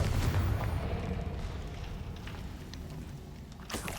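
A fiery Confringo spell explosion from Hogwarts Legacy opens with a heavy rumbling boom that slowly fades into a low roar, and a brief burst sounds near the end.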